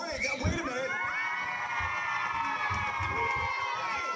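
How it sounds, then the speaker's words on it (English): A studio audience cheers and whoops during a morning TV show, a continuous crowd roar with high shouts and yells layered over it, sustained for the whole stretch. "And that's just this part of the audience that's cheering."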